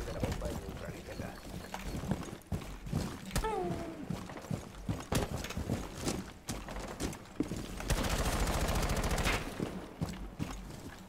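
Gunfire in Rainbow Six Siege rings out as sharp, irregular shots and a dense burst of rapid fire near the end, mixed with game noise and a voice speaking over it.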